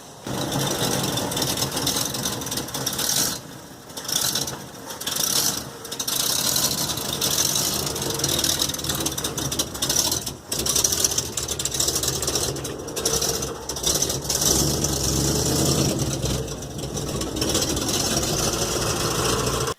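A 1965 Ford F100 pickup engine with headers, glass packs and dual exhaust idles steadily with a rough, throbbing exhaust rumble, close by and unchanging for the whole stretch.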